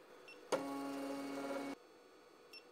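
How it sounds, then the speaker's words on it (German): A Geeetech E180 3D printer drives all its axes to the endstops, giving one steady motor whir of about a second, close and quiet, with no speech. "Dabei fährt der Drucker sofort alle Achsen zu den Endschaltern."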